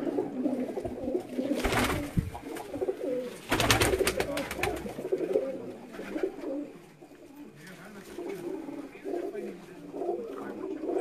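Domestic pigeons coo in pairs inside a rooftop loft, a steady, layered murmur of soft throaty calls close by, with a couple of brief flapping bursts and faint background talk.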